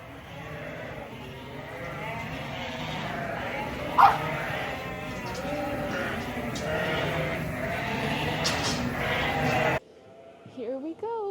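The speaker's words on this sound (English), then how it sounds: "The sheep are in." Sheep bleating repeatedly in a flock as they are brought in, overlapping calls over steady outdoor noise, then a short quieter stretch with a few nearer bleats at the end.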